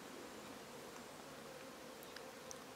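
A faint, steady buzz of wild bees flying around a tree hole, continuous and low-level against quiet woodland surroundings.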